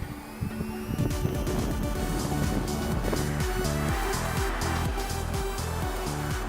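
Volkswagen Touareg with a 3-litre 286 PS V6 diesel being driven: a steady, close engine drone with a low rumble and road and wind noise, continuous throughout.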